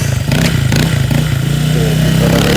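A motorcycle fitted with a RATLOOK MT8 exhaust pipe, heard at a shop during a road test, revs steadily and loudly at close range with a throbbing low drone, and voices talk faintly underneath.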